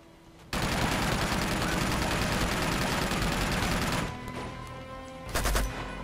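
Sustained automatic turret fire in Uncharted 2, a loud continuous rattling stream that starts abruptly, runs for several seconds, then drops off before a brief final burst.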